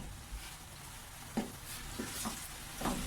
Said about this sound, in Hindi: इस ऑयल में हम इसे अच्छे से भूनेंगे।